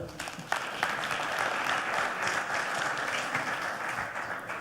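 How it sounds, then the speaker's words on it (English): An audience claps for an honorable minister at a youth entrepreneurship competition day, steady moderate applause lasting several seconds at a moderate distance. "Please, can we give the Honorable Minister another round of applause?"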